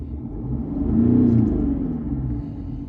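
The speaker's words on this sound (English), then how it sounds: "you can hear the engine there, it's going up there" A car engine revs up from idle and settles back down, a steady mid-low rumble rising and falling over a few seconds, heard close with no talking.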